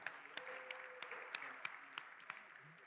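Faint, distant audience applause for the central waterfront redevelopment at a downtown civic event, a soft continuous patter broken by regular sharper claps.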